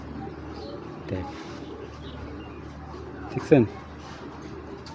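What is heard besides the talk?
pallar breed pigeons cooing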